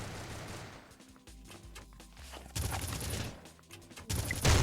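Rapid gunfire from a competitive multiplayer shooter match, a series of sharp bursts and blasts that grow louder in two dense volleys near the end, with no talk over them.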